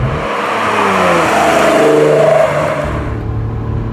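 A 2017 Acura NSX revs up hard and climbs, then drops back as the gear changes through, loud and close with a smooth whirring engine note and no voices.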